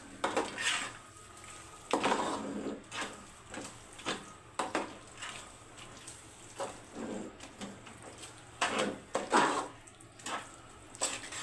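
Almonds, cashews and raisins being stirred together in a bowl, giving soft, irregular clinks and rattles of a spoon against the dish in a quiet kitchen.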